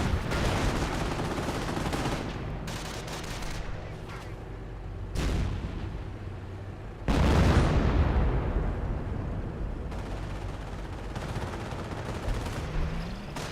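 Gunfire from a .30 cal machine gun in the World War II strategy game Company of Heroes, dense overlapping bursts and booming blasts in a continuous loud battle mix, with a speaking voice over it.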